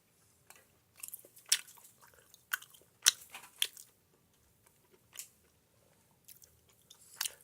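Spicy tteokbokki rice cakes are chewed close to the microphone in an ASMR mukbang, with sharp, crisp bites and wet chewing in irregular bursts separated by quiet pauses.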